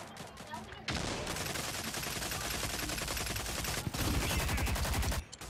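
Sniper fire and other gunshots in a shooter video game ring out as a dense, continuous barrage of loud cracks for most of the clip, with a short quiet stretch at the start and a gap near the end.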